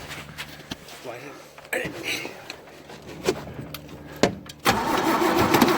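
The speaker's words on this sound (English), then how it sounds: "There, now it's gonna start up." A cold Toyota FJ40 Land Cruiser with an automatic choke cranks and starts, with bursts of engine noise building to a steady running roar at the end, close by, and people talking throughout.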